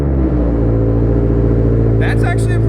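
A 2022 Subaru BRZ fitted with only a small resonator and no muffler revs, giving a loud, throaty, continuous exhaust roar up close, with a brief voice cutting in near the end.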